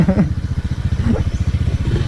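A close, second-hand carbureted Suzuki Raider 150 motorcycle engine chugs unevenly at low revs, its rapid pulsing thuds sounding labored and rough.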